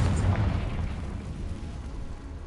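A Confringo spell blast goes off in Hogwarts Legacy, a loud, deep explosive boom that fades into a broad rumbling decay, with no speech over it.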